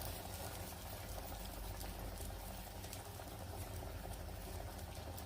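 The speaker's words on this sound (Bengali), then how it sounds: "চাপ দিয়ে সবগুলাকে এভাবে করে ভেজে নিব। এগুলো হচ্ছে দানকুনি পাতার পেটিস" Dankuni leaf patties frying in a pan, a steady dense sizzle that holds at an even level throughout with no pauses.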